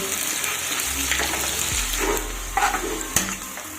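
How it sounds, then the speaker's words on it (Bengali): Chopped onion frying in oil to a crisp brown while being stirred constantly, a loud steady sizzle close by with scraping strokes and a few sharper knocks of the spatula against the pan. "পেঁয়াজটা আমি অনবরত নাড়তে থাকবো তাহলে সবটা পেঁয়াজ একই রকমভাবে সুন্দর ভাজা হবে"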